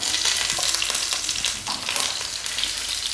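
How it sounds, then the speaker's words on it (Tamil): Mustard seeds, urad dal and green chillies fry in hot oil, a close, busy sizzle with crackles and a few spatula stirs against the pan, no voices. "கடுகு பொரிஞ்சதுக்கப்புறமா நம்ம உளுந்து சேர்த்துக்கிடுவோம்"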